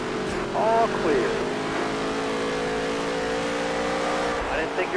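Race car engines in the NASCAR Heat 3 video game, a steady sustained drone at high speed during a final lap with a brief surge of revving, while a voice talks over it.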